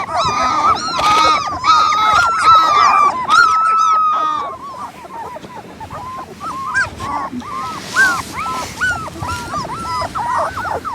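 German Shepherd puppies with black sable coats whimper and yelp in a rapid, high-pitched string of cries, loud and close, with short barks mixed in and a few faint voices.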